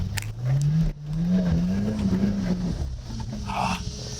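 A 4x4 crawls off-road up a rock step in first low gear, its engine droning low and steady and rising and falling slightly as it strains, with no talk.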